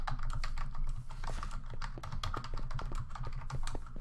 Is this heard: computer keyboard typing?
yes